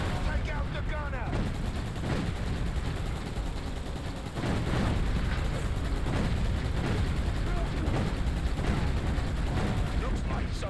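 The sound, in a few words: gunfire in the Xbox video game Roadkill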